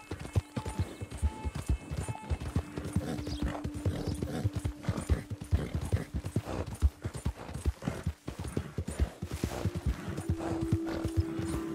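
Horse hooves clip-clop steadily in the video game Red Dead Redemption 2, a close, rhythmic trot of repeated hoof strikes over ground, with faint game music tones underneath and no talking.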